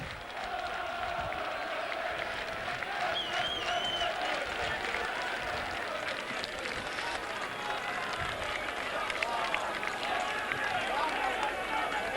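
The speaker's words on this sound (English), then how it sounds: "And you can hear what the crowd think of that." Rugby league crowd at a Whitehaven v Workington match reacting to a score, a steady roar of distant cheering and applause filling the ground throughout, with no clear speech over it.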